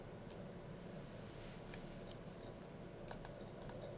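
A computer keyboard is pressed for a Command-X shortcut, giving a few faint, light key clicks over a low, steady room hum.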